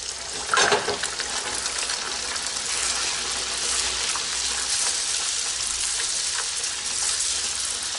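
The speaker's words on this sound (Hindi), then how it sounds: "तो मैं अब इसमें पूरी डालूंगी और ऑयल अच्छा गर्म है" Puri sizzles in hot oil over medium heat, with a steady, bright crackling hiss throughout. A sharper burst of spitting comes near the start as the dough goes in.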